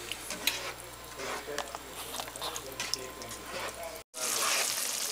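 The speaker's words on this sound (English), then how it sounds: "I'll just stir this up a little bit" Stirring and gentle sizzling in a pan of shepherd's pie filling with ground beef and beef stock, soft scraping and bubbling close up, followed by a short silence and then a louder hiss.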